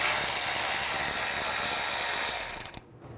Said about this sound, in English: Using a 12mm socket, remove the bolt for the brake hose bracket.